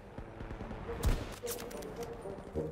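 Gunfire in the Battlefield 2042 beta: scattered shots and a sharp nearby burst around the middle, mixed with game ambience and faint voice.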